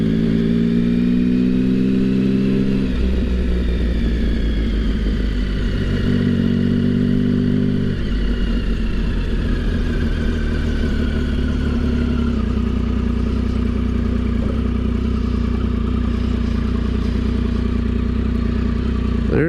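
A 2007 Triumph Tiger 1050 motorcycle rides along a road with a steady engine drone, shifting gears and changing revs, loud and close over continuous wind noise.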